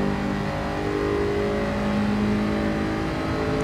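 A race car in Gran Turismo 7 holds full throttle on the Nürburgring GP circuit, a steady, loud, high-revving engine drone with no lift.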